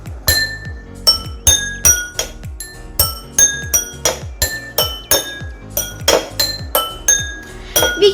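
Metal spoon striking a row of water-filled glasses in a jal tarang, producing a steady series of bright ringing glass tones at varied pitches, close and clear with no talking.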